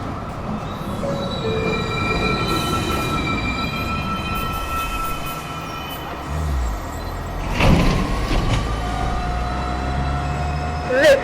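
A Manhattan-bound 2 train on the New York City subway pulls into a station, its steady rumble building with rising wheel squeal and a few sharp metallic screeches near the end, close and loud.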